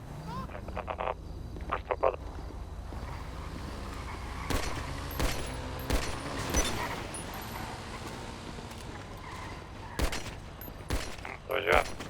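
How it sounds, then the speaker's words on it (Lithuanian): Gunfire in a 1990s-themed video game roleplay, heard as a series of sharp bursts and volleys spread across the scene, mixed with voices talking and other game sounds. "Šaudo, šaudo."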